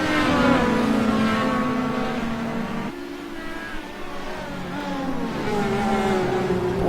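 DW12 IndyCar racing at Road America: high-pitched engine whine from open-wheel race cars, pitch rising through gear changes with a brief drop near 3 s, loud and steady throughout.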